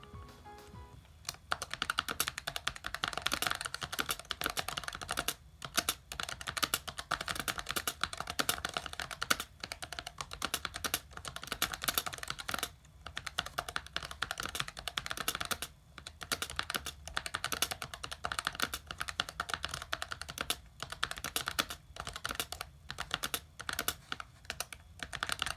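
Typing on the keyboard of an IBM ThinkPad 755C laptop, a close, steady stream of clicking keystrokes in uneven bursts with brief pauses between runs, heard alone without talking.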